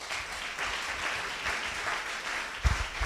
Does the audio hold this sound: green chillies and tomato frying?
no